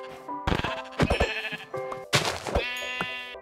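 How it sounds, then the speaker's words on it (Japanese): Several sheep bleats from the Minecraft video game, loud and close, coming in a quick series of wavering cries with short gaps between them and no talking. "操作に慣れていないと羊を殺すのに労力がいるんですね。"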